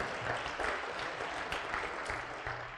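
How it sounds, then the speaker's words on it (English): Audience applause at a university president's council dinner, a steady dense wash of clapping that holds at an even level throughout, with faint voices mixed in underneath. "You can go ahead and clap."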